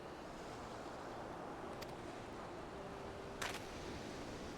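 Steady ocean surf washes continuously in a Final Fantasy XIV scene set under a clear sky, with faint wind and a few brief chimes above it, and no talking.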